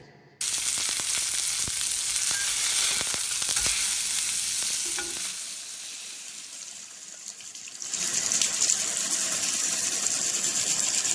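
Food fries in a pan during hurried home cooking, making a loud, continuous sizzling hiss. It eases off midway, then surges back, with occasional clicks from stirring.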